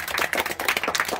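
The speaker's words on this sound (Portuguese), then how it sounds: "Opa, palmas." Family members clapping together at a birthday celebration, a short burst of quick, slightly uneven handclaps at close range.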